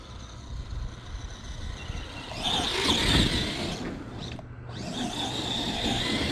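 A small electric motor whines as an Arrma Gorgon radio-controlled truck drives past, rising in pitch and loudness, dipping briefly, then whirring on at a steady distance.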